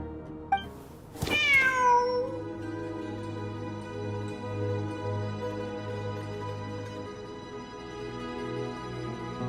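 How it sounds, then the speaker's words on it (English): A cat meows in the video game Genshin Impact, one clear drawn-out call after a brief sharp sound, set over a sustained musical background. "Wait, there it is! The cat!"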